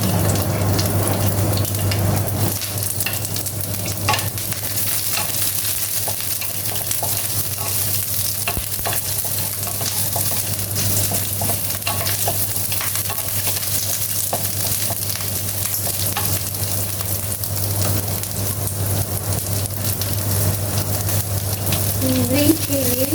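Onion frying in a pan as the base for an Indian tomato soup, giving a steady sizzle with occasional stirring scrapes throughout, close and even in level, with no talk.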